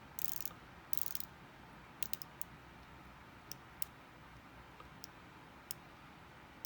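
Seiko SPB097 dive watch bezel rotating in a series of faint, crisp ratchet clicks, some in brief clustered runs and others spaced singly, very close and quiet.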